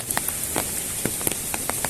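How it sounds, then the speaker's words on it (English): Steady heavy rain hisses down continuously during flooding in Morayfield, with scattered drips and patters landing close by, no voices. "like there's a lot more rain than yesterday."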